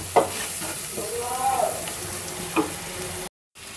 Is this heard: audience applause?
no